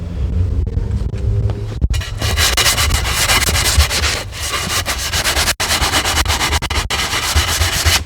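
Harsh, continuous abrasive rubbing close by, a steady sanding rasp against the edge of broken aquarium glass with a few brief pauses, loud and unbroken.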